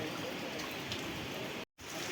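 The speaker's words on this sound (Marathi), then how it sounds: "आणि पाऊस पण." Steady rain falls in a riverside village in Konkan, a continuous soft hiss of drops on surfaces with a brief cut near the end.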